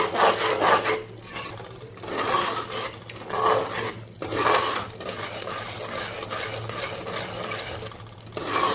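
Yogurt cooks in a pan for chicken pulao while a spoon stirs and scrapes it in repeated rhythmic sweeps over a soft, continuous sizzle, with no one speaking.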